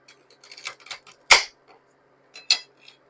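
A knife cuts into freeze-dried gummy candy, giving two sharp crisp cracks about a second apart with light brittle crunching and tapping around them, close and quiet.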